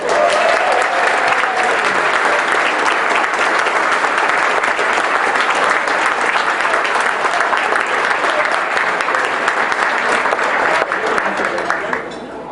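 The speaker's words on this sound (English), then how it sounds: "I'd like a round of applause for all the sponsors" A large banquet audience applauds steadily and loudly, sustained clapping filling the whole stretch before tapering off at the end.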